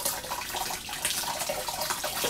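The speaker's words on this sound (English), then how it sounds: "Now I'm going to pour the glaze over like that and unwind my finger." Shino glaze poured over a ceramic pot, a steady continuous liquid pour and splash lasting a couple of seconds, close and fairly soft with no talking.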